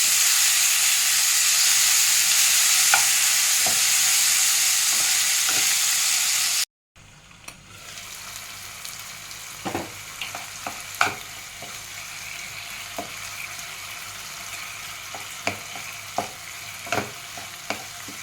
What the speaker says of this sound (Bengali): এটাকে ভালো করে নাড়াতে থাকি যতক্ষণ এটা সেদ্ধ হতে থাকছে।